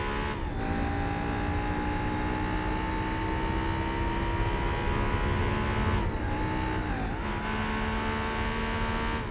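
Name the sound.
Honda Civic race car engine in Gran Turismo 4 video game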